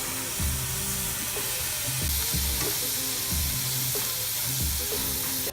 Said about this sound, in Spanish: Cuando esté listo, fría la carne hasta cocinando.